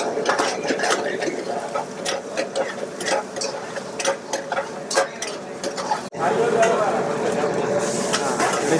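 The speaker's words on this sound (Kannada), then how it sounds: "ಪನ್ನೀರು ಇದು ಆಯಿಲಲ್ಲಿ ಹಾಕ್ಕೊಂಡು ಇದನ್ನ ಫ್ರೈ ಮಾಡ್ತಾ ಇದ್ದಾರೆ" Paneer for a paneer dum biryani frying in oil in a pan, a close sizzle broken by repeated clinks and scrapes of a utensil stirring against the pan.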